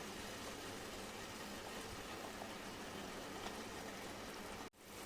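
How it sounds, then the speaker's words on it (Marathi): Sugar syrup boils vigorously over a high gas flame, a dense, steady bubbling hiss that holds without pause and cuts off abruptly near the end. "साखरेच्या पाण्याला छान खळखळून उकळी आली आहे"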